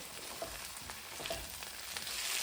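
Potatoes and onions frying in a pan give off a quiet steady sizzle, with a few soft scrapes of stirring, faint and without talk.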